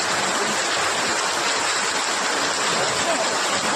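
Heavy rain driven by strong wind, a loud, continuous close hiss and roar of water with no breaks and no voices.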